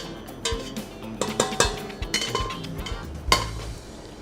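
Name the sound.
bowl of choux pastry base placed onto mixing machine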